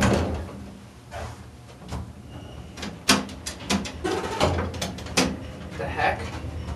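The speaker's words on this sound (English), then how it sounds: "door closed when you push the button" A Westinghouse elevator door at the Cathedral of Learning slides and clunks shut, with a scatter of mechanical knocks and rattles inside the car, while people murmur faintly nearby.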